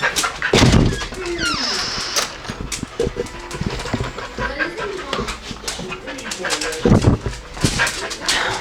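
Dogs whimper and whine near a farm with cows, giving a few sharp louder barks, while a low engine hums and people talk nearby.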